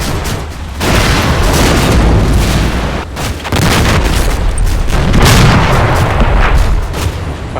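Artillery barrage in the Combat Mission WWII tactics game: a continuous rumble of heavy booms and blasts rolling together, loud and dense, with two brief lulls between sustained volleys.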